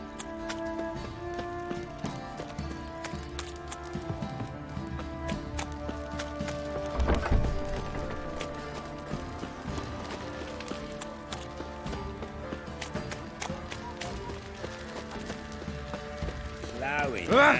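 Horse hooves clip-clop in a steady galloping rhythm in The Witcher 3, under a dense game soundtrack with constant music and ambience and a brief louder swell midway.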